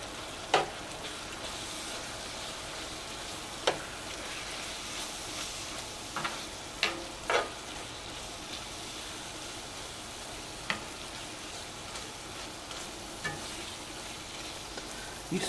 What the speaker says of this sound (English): You stir it until it's all incorporated.